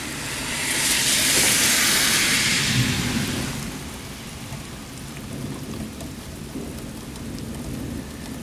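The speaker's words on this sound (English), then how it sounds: "Oh no, it's raining bad. It's raining so bad out there." Heavy rain pours steadily outside, with a loud hissing surge in the first few seconds and a low rumble of thunder beneath, easing to a constant dense patter with no talking.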